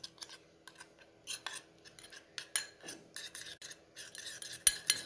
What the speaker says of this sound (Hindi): इस पेस्ट को हम मिक्स करेंगे